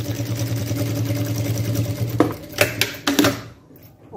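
A sewing machine stitches a pocket onto a men's shoulder bag, running with a steady mechanical hum for about two seconds before breaking into short bursts and stopping near the end.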